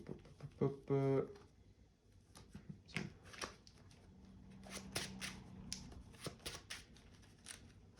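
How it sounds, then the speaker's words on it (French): A deck of Pokémon trading cards being shuffled during a standard-format match: a quick riffling burst followed by soft, scattered card clicks and rustles, close and fairly quiet, with a brief murmured voice. "Ensuite, je mélange mon deck."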